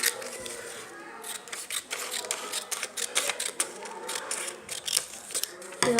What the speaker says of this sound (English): take some sheet and first cut according to the length.